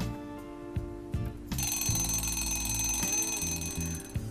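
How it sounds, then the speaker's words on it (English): A morning alarm clock rings alone, a few sparse beeps followed by a loud, bright, continuous electronic ringing that fills the room up close and stays steady to the end. "We wake up in the morning at the sound of the alarm."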